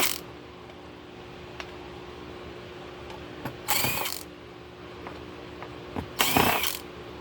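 Screws being removed from the circuit board of an Enterasys 72-port network switch, with two short ratcheting bursts from a screwdriver and small metallic clicks between them in a quiet room, close by.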